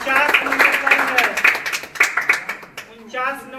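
Students in a classroom clapping for a classmate's exam result, a burst of scattered handclaps under a teacher's voice speaking throughout.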